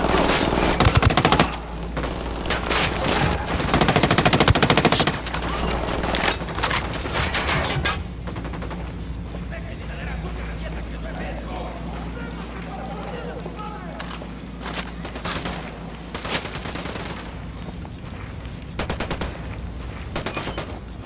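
Gunfire in Ghost Recon Wildlands, a video game: dense bursts of rapid automatic fire and explosive booms, heaviest early on, then continuing more sparsely under steady game ambience with voices talking over it.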